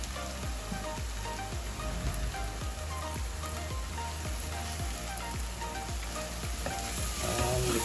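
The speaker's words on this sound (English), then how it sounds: "Mix it up as it's frying" Curry leaves fry in hot masala with prawns for a prawn thokku, a steady loud sizzle and crackle with soft rhythmic stirring thumps underneath, close and continuous throughout with no talk.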